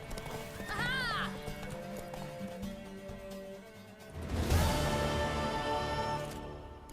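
Horse hooves clip-clop and a horse whinnies in The Witcher 3, a rising neigh early on, then louder galloping hoofbeats near the end, with faint game music throughout.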